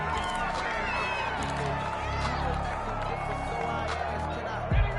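A stadium crowd in a PS4 American football game murmurs and cheers steadily in the background, a dense continuous roar under faint commentary.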